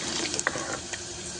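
Water is poured into a blended yogurt and gram flour mixture for kadhi, a short close splashing trickle with a few small bubbling pops.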